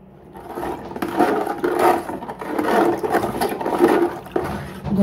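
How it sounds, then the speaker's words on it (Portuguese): Sugar being stirred into household bleach in a container, a steady rough scraping and rubbing that rises and falls in repeated strokes over several seconds, close by with no talking. "Agora eu vou desmanchar bem."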